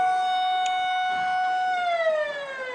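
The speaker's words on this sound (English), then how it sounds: "The horn, the siren, I guess." Stadium siren at a high school football game blaring after a touchdown, a loud, sustained tonal wail held steady before sliding downward in pitch.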